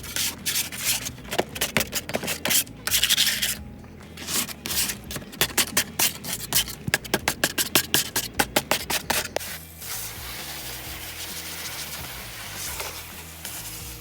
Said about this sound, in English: grab a scraper to get the remaining things that are stuck to the bottom of the table